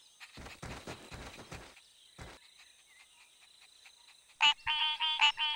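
Cartoon tree frogs call at their breeding ground by a stream: after some quieter earlier sounds, a sudden cluster of bright, high, chirping croaks bursts out near the end, loud and close.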